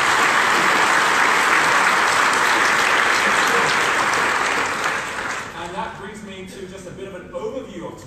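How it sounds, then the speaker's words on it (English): An audience at an entrepreneur summit applauds loudly, a dense wash of clapping that fades after about five seconds into scattered claps and murmuring voices. "can you please give them all a big round of applause?"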